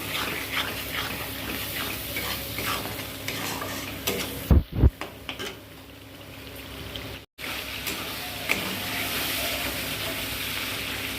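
Dal with masala is stir-fried in a pan, giving a steady sizzle with scraping stir strokes and a couple of sharp clanks midway, close and continuous, with no talking.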